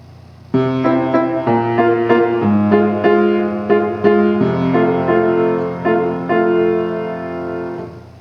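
A piano plays a short melodic phrase of distinct notes, close and clear, with a gentle rhythm and notes ringing into each other, no talking.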